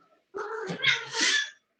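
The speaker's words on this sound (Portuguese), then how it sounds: "meu gato tá miando" A house cat gives one drawn-out, wavering meow close by, loud and clear against an otherwise quiet room.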